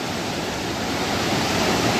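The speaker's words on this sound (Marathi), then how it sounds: "कसला पाण्याचा फोर्स आहे" Forceful flood water rushing during heavy rain, a loud, dense and unbroken roar of churning water with no voices.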